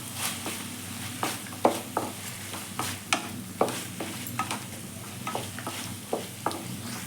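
Chopped tomato fries in a pan for chicken dry, a steady sizzling hiss punctuated by regular sharp scrapes of a spoon stirring against the pan, close and moderately loud, with no speech.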